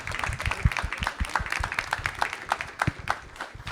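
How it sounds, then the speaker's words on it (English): An audience at an evening art talk applauds, with dense, crisp hand claps in a lively, uneven patter that holds at a steady level throughout. "A round of applause for Harvey."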